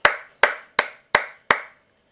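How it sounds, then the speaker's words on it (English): Five sharp hand claps ring out alone in a quiet room, evenly spaced about a third of a second apart, each with a brief decaying ring. "Did you hear me clapping?"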